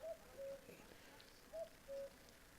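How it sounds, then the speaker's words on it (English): Morning cuckoos in the video game My Summer Car give two distinct two-note calls, each a higher note dropping to a lower one, quiet and distant over a soft background hush. "listening to the cuckoos"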